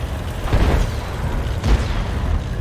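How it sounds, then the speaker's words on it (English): In World of Tanks, a tank's ammo rack is hit by a round from an Object 140 and explodes, giving two deep, rumbling booms about a second apart over steady low battle noise. "Took a round from the Object 140 and he's been ammo racked"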